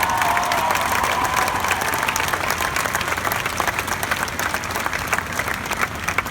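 Audience at the Invictus Games applauding with scattered cheers: a dense, loud, sustained wash of clapping from a large crowd that holds steady from start to finish.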